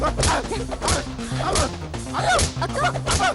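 Several dogs barking in quick, overlapping bursts at close range, loud and agitated, with sharp yips mixed in.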